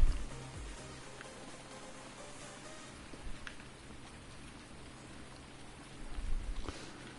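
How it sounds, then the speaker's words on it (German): Steady soft rainfall in the video game Farming Simulator (PS4) patters continuously at a moderate distance, with a low hum underneath and a brief swell near the end. "Es regnet immer noch, war ja klar."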